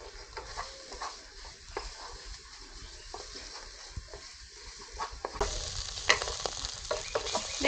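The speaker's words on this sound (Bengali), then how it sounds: "দেখুন এখানে পুরটা ভাজা ভাজা হয়ে গেছে" Spiny gourd pakora filling dries as it fries in a pan, a soft close crackle with occasional stirring scrapes that grows louder and hissier toward the end.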